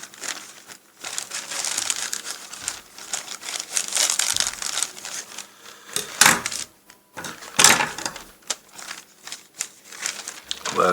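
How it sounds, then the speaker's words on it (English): Scissors cutting a plastic carrier bag into squares, with bursts of crinkling and snipping plastic close up, separated by short pauses. "So I'm cutting the ends of the carrier bag here."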